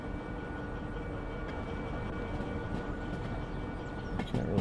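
Steady rumbling train noise in the VR game Derail Valley, with a continuous low drone and faint mechanical tones, rising slightly louder near the end; no talking.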